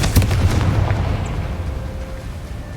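Confringo fire spell blast in Hogwarts Legacy, a loud, close explosive burst at the start that rolls into a decaying rumble and fades over the next two seconds.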